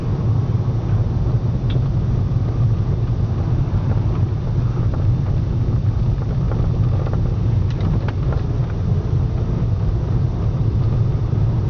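Jaguar S-Type 3.7 bi-turbo diesel with manual six-speed gearbox driving steadily, a continuous low engine and road rumble mixed with wind buffeting, fairly loud throughout with no talking.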